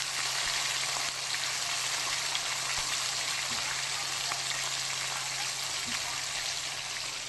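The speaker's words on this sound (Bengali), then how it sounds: "ভোলা মাছ আমি একটা একটা করে দিয়ে দিচ্ছি। ভালোভাবে ভেজে নেব" Bhola fish pieces frying in hot oil, giving a steady dense hiss and sizzle that stays close and even throughout, with faint scattered pops and no clear talk over it.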